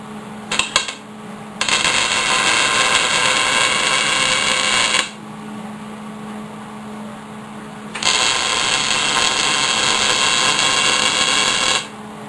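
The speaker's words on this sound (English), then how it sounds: "And then come in with the welder." A welder runs short beads on a preheated bench pin pagoda. Two close, steady bursts of crackling, buzzing arc noise, each about three seconds, are separated by a quieter pause over a low hum.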